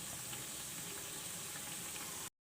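Snack bites sizzle steadily in hot frying oil, a dense, even crackle at close range that cuts off abruptly near the end.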